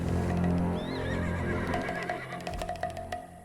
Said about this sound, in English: Horses won't budge thanks to that scary lot.